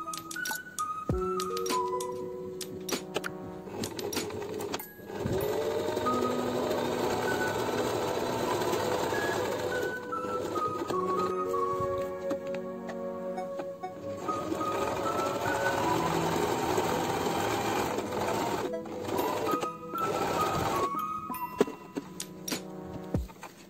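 Sewing machine stitching fabric for a cloth phone cushion, a rapid mechanical whirring that runs in long stretches with short pauses and speed changes between them, close and fairly loud with no talking.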